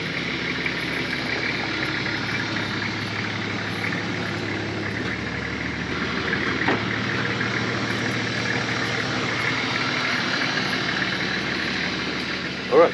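A car engine idles in a backyard before a test drive on homemade snow chains, a steady close rumble that holds evenly throughout, with faint talk in the background.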